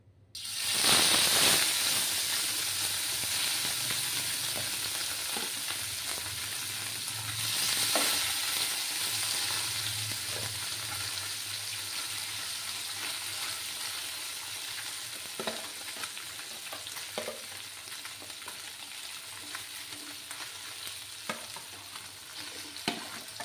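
Small fish frying in hot oil in a wok over a lowered gas flame, a continuous loud hiss that spikes as fish drop in, then settles into an even sizzle with scattered pops and crackles.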